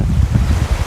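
Wind rushing over a microphone on a moving motorbike, a loud, steady low roar with uneven gusty pulses throughout, no voices present.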